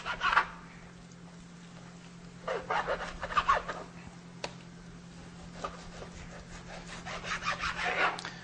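A knife cuts trimmed raw beef into chicken-breast-sized pieces on a board, with several bursts of quiet rubbing, sawing strokes over a steady low hum.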